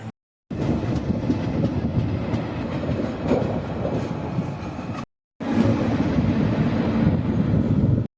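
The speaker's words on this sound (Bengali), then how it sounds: "মেছেদা থেকেও ট্রেনটি আর কি ছেড়ে চলে যাবে একেবারে দীঘার উদ্দেশ্যে" A Howrah to Digha local train runs steadily in loud, continuous rumbling clatter, with a brief break near the five-second mark before the noise resumes.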